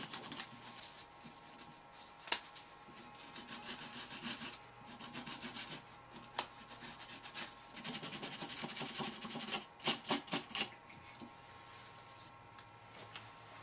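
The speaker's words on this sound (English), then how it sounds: "I'm going to clean off the carbon from the burned area with some sandpaper." Sandpaper scrubs burned carbon off a scorched spot on a relay circuit board, making soft, close scratchy rubbing in uneven strokes with a quick run of louder scrapes near the end, and nobody talking.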